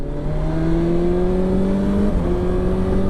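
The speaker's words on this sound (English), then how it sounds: "We're going to pull the throttle back on straight" A 2021 BMW S1000XR motorcycle accelerating on a straight road after a roundabout: a steady, loud engine drone with rising pitch, plus a brief dip as the quick shifter snaps up a gear partway through.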